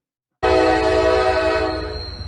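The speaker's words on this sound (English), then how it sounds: "we can watch 38 seconds of a choo-choo" A train horn blasts suddenly and loudly as a freight train moves through East Palestine, a sustained multi-tone chord that holds strong before easing off slightly, with no talking.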